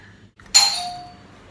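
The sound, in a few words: doorbell ringing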